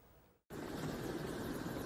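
Doctor air ambulance helicopter on an emergency patient transfer in Jeollanam-do, a loud steady rotor and engine roar that cuts in after a brief silence and holds close and constant.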